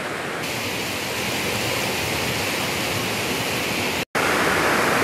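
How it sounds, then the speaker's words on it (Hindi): Khuna waterfall in Azad Kashmir pours down in two drops and flows on, giving a loud, steady, unbroken roar of falling water with a momentary cut near the end. "आप देख रहे हैं जी आबशार, इसके खूबसूरत नज़ारे। ये दो हिस्सों में है, पहले पानी ऊपर से आ रहा है, नीचे गिर रहा है"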